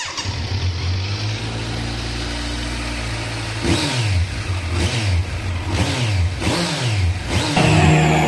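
A Kawasaki Z900 motorcycle with its stock exhaust idles steadily, then gets blipped through a series of sharp, loud revs that rise and fall in quick succession, close by and indoors, with no talking.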